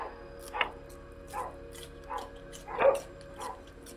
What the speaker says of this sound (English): The dogs go barking.